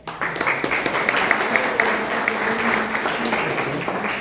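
Applause from a lecture audience at a talk on condominium accessibility, steady dense clapping that fills the whole stretch at moderate volume, with no voices standing out.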